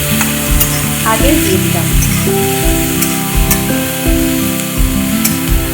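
Mixed vegetables, chopped onion and tomato fry with mustard seeds for a jhotpot poha breakfast, giving a loud, steady sizzle with scraping stirs and clinks, while someone speaks briefly over the cooking.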